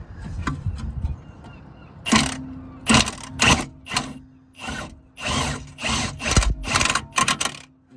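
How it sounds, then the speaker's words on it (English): A Milwaukee power tool tightens a rear shock bolt on a Golf R32, starting after a quiet two seconds and then running in short, loud, close bursts separated by brief pauses. "So what we'll do is we'll get the Milwaukee into there"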